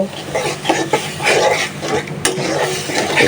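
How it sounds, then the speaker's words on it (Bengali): Garlic, turmeric and chili spice paste sautéed in a pan for a curry, with a steady close sizzle and repeated scraping, stirring strokes of a spoon against the pan. "এবার তরকারিটা ভালোভাবে কষানো হোক মশলাটা"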